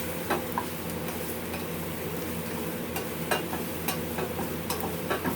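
Shallots soften in a hot pan, a low, steady sizzle with a few faint ticks and light stirring sounds, quiet and close with no speech.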